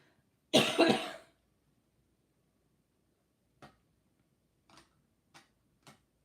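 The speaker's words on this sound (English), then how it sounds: "Still getting over this cough" A single rough cough close by, followed after a pause by four faint, scattered ticks or taps in an otherwise quiet room.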